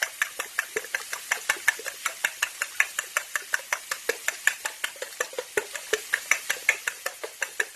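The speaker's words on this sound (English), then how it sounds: "I just use a fork and poke the yolks and whisk them with a fork" Eggs being whisked with a fork in a bowl at a backyard meal, a fast, steady stream of light clicking taps close up, with no talking.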